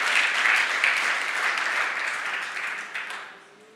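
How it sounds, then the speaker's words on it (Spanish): Applause from the congregation at a live church service, a dense burst of clapping already under way that gradually fades over a few seconds. "Denle un fuerte aplauso"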